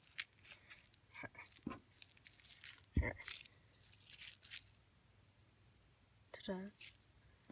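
Hershey's Kiss foil wrappers crumpled by hand into a ball, giving several bursts of crisp crinkling and crunching spread over a few seconds, close and fairly quiet, with a soft thump partway through.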